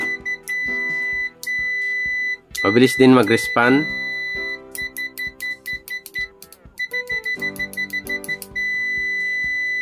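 A TOOLTOP ET618 cable tester multimeter's continuity buzzer gives sharp electronic beeps in short repeated bursts, some rapid and stuttering, with someone briefly speaking partway through.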